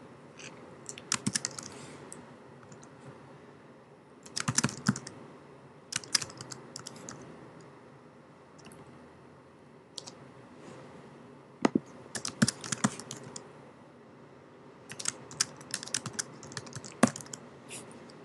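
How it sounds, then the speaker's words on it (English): A subtitle is typed on a computer keyboard in several separate bursts of quick key clicks with pauses between them. The typing is close but fairly quiet, and no one speaks. "Okay, and type in your subtitle."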